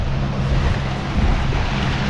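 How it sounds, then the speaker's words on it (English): Strong wind buffets a fishing boat out on Moreton Bay, a dense, continuous roar mixed with water and hull noise, steady and close without any voices. "I should say that the wind's picked up considerably."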